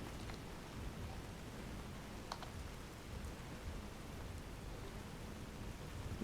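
Steady rain from Fallout New Vegas hisses as a dense, even wash of drops across the whole clip, constant and unbroken, with a couple of faint brief ticks and no voices.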